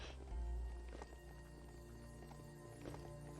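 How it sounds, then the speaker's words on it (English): A furry horse mount in the game Biomutant walking: a few hollow hoof clip-clops over a low droning background with music-like tones, fairly quiet and brief. "Horse, furry horse."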